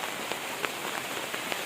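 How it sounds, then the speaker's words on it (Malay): Steady rain falls at a riverside campsite in Kampung Padang Stang, Gerik, Perak, a dense continuous patter with scattered sharper drops landing on nearby surfaces, with no voices. "Hujan masih non-stop."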